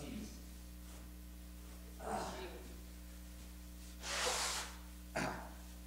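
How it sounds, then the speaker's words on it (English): A single sharp sneeze from an adult in a Sunday school class, a short breathy burst that stands out against a steady room hum, with fainter breaths around it. "I'm about to sneeze."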